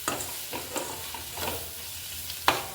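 Tomatoes being stirred in a pan of dry prawn curry: soft sizzling under intermittent scraping strokes, with one sharper clink near the end.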